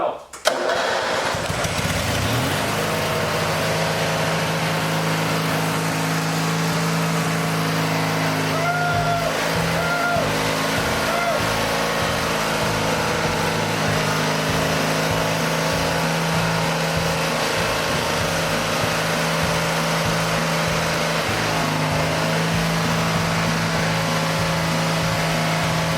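A repaired Dynamark riding mower with a new idler pulley runs steadily after starting, its engine droning loud and close at an even idle with a constant low hum and no pauses.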